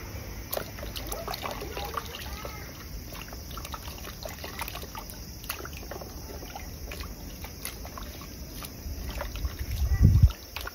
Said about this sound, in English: And now I'm just going to give them a good wash.